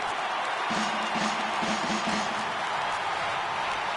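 Stadium crowd noise from MLB The Show, a big ballpark audience of over 39,000 on its feet, rising in a steady, dense roar of cheering that holds evenly throughout with no clear peaks.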